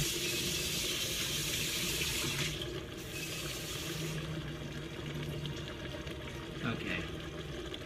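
Cold water runs steadily from a kitchen tap in a broad hiss, then softens and continues lower, with faint voices in the background.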